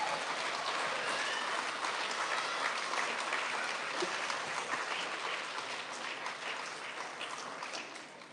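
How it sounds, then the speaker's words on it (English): A school audience applauds student STEM award recipients at an elementary recognition event, a dense, steady wash of clapping that runs the whole time and slowly tapers toward the end. "big round of applause for our STEM recipients"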